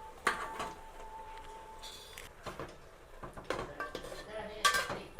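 Drained mushrooms tipped into a cooking pot for mushroom biryani, with a few close metallic clinks and scrapes of pot and utensil amid soft kitchen shuffling.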